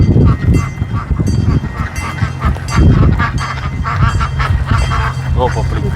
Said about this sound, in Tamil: இங்கே வாத்து இதெல்லாம் இங்கே இருக்கிறத நான் பார்த்தேன்